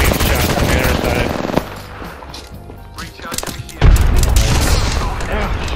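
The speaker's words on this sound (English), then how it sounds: "I'm being shot on the other side." Gunfire in the Apex Legends video game, rapid close bursts of automatic shots with heavy thumps, loud and dense at the start and again after a brief lull, with impacts booming near the end.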